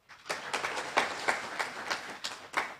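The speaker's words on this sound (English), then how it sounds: "I believe we should applaud that." Audience applause at the official opening of a university campus in Eenhana, Namibia, with a crowd clapping steadily in rhythmic bursts for a few seconds at moderate loudness.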